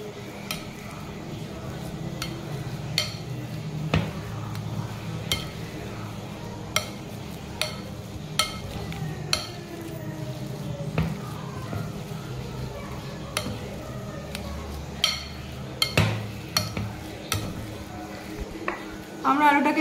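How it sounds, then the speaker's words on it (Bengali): Boiled potatoes are mashed in a bowl with a masher, giving soft repeated squelches and sharp taps of utensil on the bowl in an uneven rhythm, with a low kitchen hum underneath. "আমরা আলুটাকে মিক্সার দিয়ে মেশ করে নিয়েছি।"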